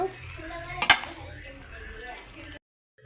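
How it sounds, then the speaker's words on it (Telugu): Street-style veg noodles being tossed into vegetables in a pan, with a quick burst of metal utensil clanks against the pan and soft stirring underneath while a voice talks over it. "వీటిని వెజిటేబుల్స్లో కలుపుకుందాం చూడండి ఇంకా మిక్స్ చేసేసుకుందాం మనము"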